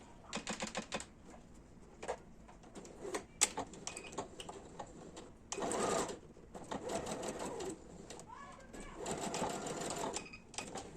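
A domestic sewing machine stitches fabric for a small zippered pouch in a short run of quick, rattling needle bursts broken by brief pauses, close and fairly quiet.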